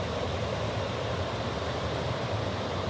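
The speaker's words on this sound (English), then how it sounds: "A little bit of minor rapid / waterfall section." Steady rushing water fills the clip, a continuous broadband roar like small rapids spilling over a low falls, close and unchanging throughout, on the Skyline Trail at Beaver Bend State Park.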